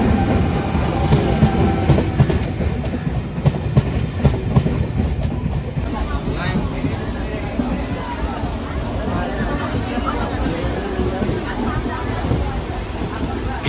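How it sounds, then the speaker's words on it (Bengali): A passenger train rolls along a busy station platform, its loud rumble and clickety-clack running steadily throughout, with crowd babble and voices mixed underneath. "২ নম্বরে দিবে ট্রেন আমাদের।"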